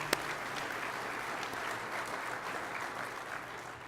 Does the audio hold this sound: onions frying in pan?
no